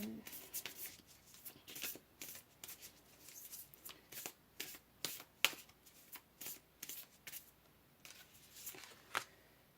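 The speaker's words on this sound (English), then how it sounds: "Let's go ahead here and pull another card as I throw them all on the floor." Tarot cards are shuffled and pulled, with a quiet, close series of crisp riffling flicks and papery snaps repeating through the whole stretch.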